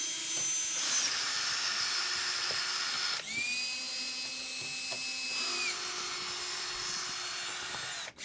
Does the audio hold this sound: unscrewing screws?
yes